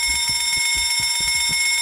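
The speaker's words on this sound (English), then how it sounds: "I'll show you what pulling an alarm does." An alarm pulled in the horror game Escape the Backrooms, a loud continuous electronic ringing with steady tones and a rapid rhythmic low pulse beneath, like a bell-type alarm going off nearby.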